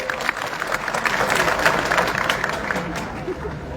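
Steady, dense applause from an audience at a public gathering, continuous throughout with a faint murmur of voices mixed in.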